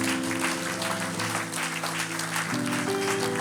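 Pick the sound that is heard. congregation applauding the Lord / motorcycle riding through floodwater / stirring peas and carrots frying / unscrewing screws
congregation applauding the Lord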